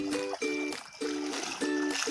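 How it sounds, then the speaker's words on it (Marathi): Creek water flowing in steadily as the tide rises, a continuous close wash and trickle with a low, steady tonal hum running beneath it. "बघा कसं पाणी भरतोय भरती येते"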